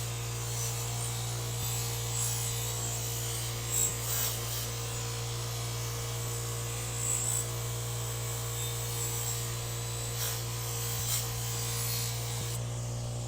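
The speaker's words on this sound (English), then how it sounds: "So now I can finish it up on my knife sharpener, the AMK-75." An AMK-75 knife sharpener with 3M Cubitron and Trizact belts cleans rust off knife blades. Its steady motor hum and belt whir run throughout, with faint light grinding scratches rising now and then.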